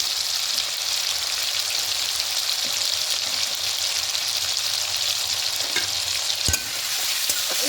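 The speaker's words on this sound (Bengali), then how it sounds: "খুব ভালো করে তেলের সঙ্গে কষিয়ে নেবো টমেটোটা গলে যাওয়া পর্যন্ত" Chopped tomatoes cooking in oil with salt and turmeric for a mustard pabda fish curry, giving a loud, continuous, close sizzle and crackle, occasionally broken by a stirring scrape, with no voices.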